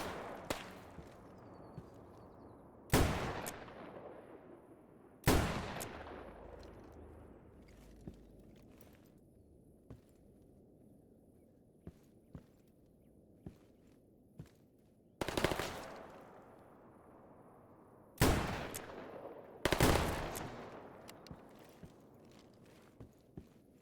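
A gun in a S.T.A.L.K.E.R. game fires about six loud, sharp shots at irregular intervals, each with a booming decaying tail, with quiet footsteps and small clicks between them.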